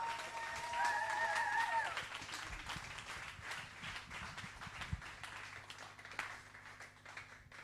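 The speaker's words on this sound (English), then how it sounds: "Let's give Tim Kurek a big round of applause" Steady broadband clapping from a conference audience fills the whole stretch, dense and sustained, with a brief tonal chirp near the start.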